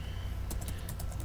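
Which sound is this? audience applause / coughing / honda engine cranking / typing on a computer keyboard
typing on a computer keyboard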